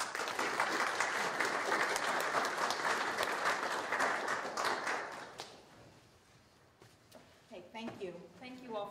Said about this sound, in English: So if I could please get a round of applause for Christine